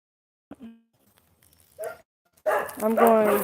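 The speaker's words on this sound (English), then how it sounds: "Sorry for him barking." A dog barks a couple of times, short sharp yaps, followed by a burst of louder mixed barking and voices close by.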